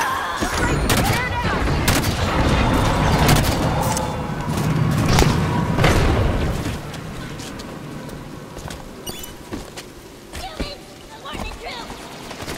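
Rapid gunfire and explosive weapon blasts in a Halo 5: Guardians battle on Sanghelios, loud and dense for the first several seconds, then thinning to scattered shots and impacts.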